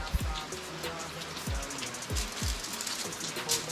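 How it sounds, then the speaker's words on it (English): Steady rain falls on a rainy day in Jamaica during an outdoor yard-style fish roast, a continuous broadband patter with a few low thumps and scattered voices in the background. "Rain."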